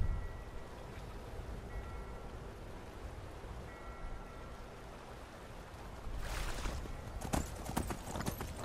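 Horse hooves clip-clopping along a road in the video game Skyrim, a steady close rhythm of hoofbeats that grows louder and more uneven near the end, with no talk.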